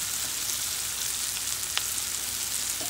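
Okra masala cooks in a pan with a constant close sizzle and soft crackling, broken by one small clack of a utensil, with no talking.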